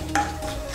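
Whole spices fry in hot oil in a pan while being stirred, giving a brief soft scrape and a light sizzle, quiet and close, for under a second.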